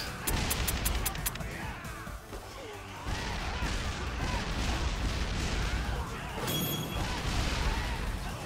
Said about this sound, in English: I hear a lot of explosions.